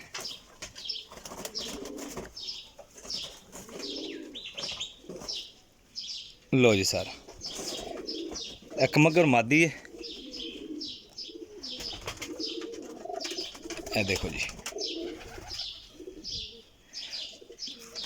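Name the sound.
pigeons cooing and flapping wings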